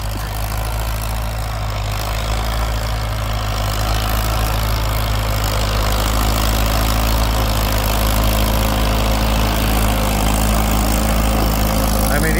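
Tractor engine pulling a plow at a farm plow day, a loud continuous low rumble with a steady drone that holds constant throughout, heard close with no talking.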